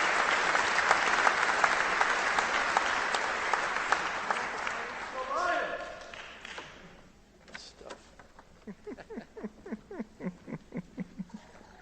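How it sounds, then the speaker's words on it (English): A crowd applauds graduating award recipients at a law school spring commencement, steady clapping that fades out midway, followed by quieter scattered sounds and faint speech. "So please give another round of applause to all the awardees this year."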